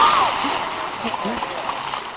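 Vehicle on mud tires splashing through a river crossing, heard as continuous rushing, splattering water for a couple of seconds with no speech.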